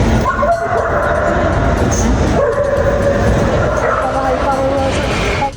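A military dog barks and yips repeatedly at an airport security checkpoint, loud and close, over busy crowd and vehicle noise with voices in the background.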